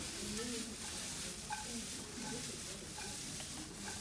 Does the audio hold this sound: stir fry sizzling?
yes